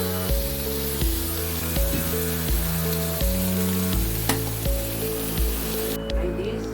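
Lamb ribs sizzling on a barbecue, a steady crackling fry heard under a looping background music track with a regular beat.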